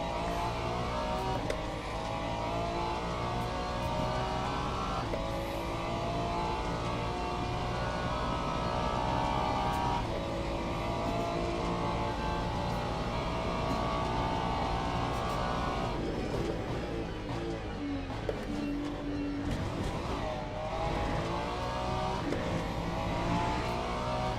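Race car engines in Le Mans Ultimate, a steady loud drone of revving and shifting engines with pitch rising and falling continuously, close up throughout, BMW and other GT cars racing together.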